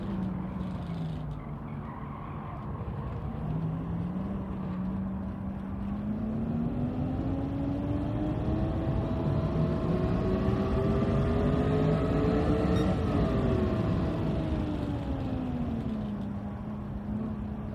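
A Mazda MX-5 Roadster engine in the racing game Gran Turismo 7 holds a steady drone that rises slowly through a long pull, then drops back before climbing again. It stays moderately loud throughout, with no speech.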